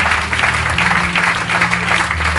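A church audience gives a loud, sustained ovation for an apostle, with dense, even clapping close and filling the space without a break.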